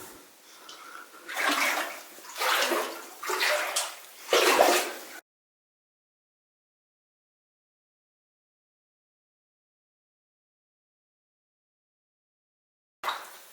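Feet wade through very cold water inside an abandoned mine, four heavy sloshing surges in a row, close and loud, then near silence.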